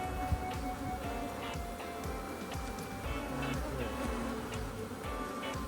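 Honey bees hum and buzz around an open hive on a farm during a honey harvest, a dense, close, continuous drone with individual insects swooping past the microphone.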